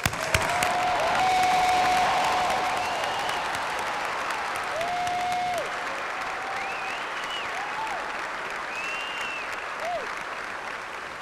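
High school graduation audience applauding, a broad wash of clapping that swells early then tapers to a steady patter, with scattered whistles and whoops rising above it.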